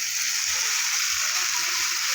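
Fried potatoes and young jackfruit drop into hot spiced masala in oil, setting off a steady, loud sizzle that holds evenly throughout with no talking.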